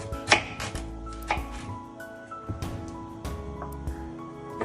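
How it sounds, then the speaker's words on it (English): A sharp knife chopping through pumpkin on a board, several distinct close thuds and cuts at an uneven pace, loud and clear with no talk. "now is the time to chop your pumpkin"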